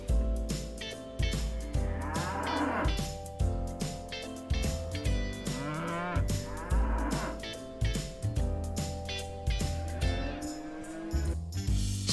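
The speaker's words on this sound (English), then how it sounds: "Cow." A cow lowing in several long, drawn-out moos over a light music track, the calls loud and close with pauses between them.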